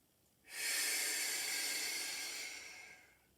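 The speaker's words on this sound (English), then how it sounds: "nice deep breath in" A single deep, airy breath drawn in during a Pilates exercise, close and clearly audible, rising quickly, holding for about two seconds and then fading away.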